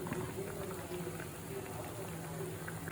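Prawn curry boiling in a pan, a close, steady bubbling and simmering hiss that holds even and unbroken throughout.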